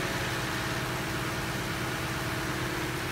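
The 5.7-litre gasoline V8 of a 2016-2018 Lexus LX570 Sport Plus idles with the hood open, a steady close, even hum and low rumble, with no talking.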